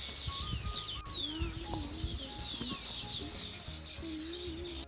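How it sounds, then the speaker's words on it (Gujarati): Many sparrows chirp in a busy, overlapping chorus at their nests in a palm tree, with bright repeated tweets near and far. Faint background noise runs under the calls. "કેટલી બધી ચકલીઓ છે."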